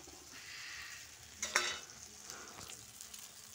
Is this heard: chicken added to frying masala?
yes